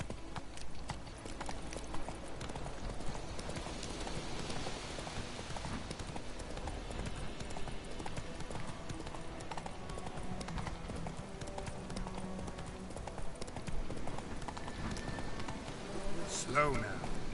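Steady clip-clop of a horse's hooves on a road in The Witcher 3 video game, a continuous close trotting rhythm throughout with someone talking over it.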